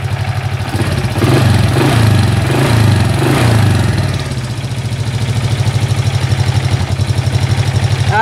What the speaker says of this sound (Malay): Macam ni lah bunyi enjin Dream kacuk 110. Smooth dia bunyi enjin dia.